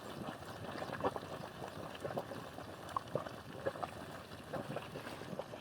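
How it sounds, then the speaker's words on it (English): A small hot spring in Yellowstone's West Thumb Basin bubbles steadily, with soft gurgles and pops over a continuous wash of water and steam. "This little guy is bubbling quite a bit."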